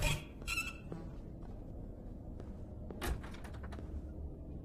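A door in the Japanese horror game Blame Him swings open with a squealing creak and scrape, then knocks, in a quiet, hollow room.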